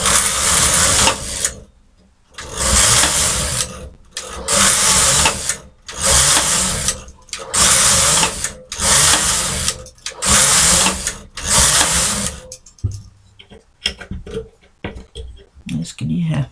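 A domestic knitting machine works a tuck stitch gauge swatch, its carriage making loud rhythmic sweeping passes in about eight even bursts with short pauses, then quieter handling clicks at the end.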